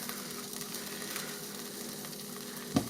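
Bacon sizzles in a preheated electric pressure cooker, a faint continuous crackle and hiss with a small clunk near the end.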